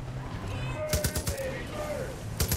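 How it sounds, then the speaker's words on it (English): Explosions and fireworks go off in the video game Far Cry 5, with bursts of sharp cracks and bangs clustered near the middle and again at the end over a steady game background. "There's fireworks."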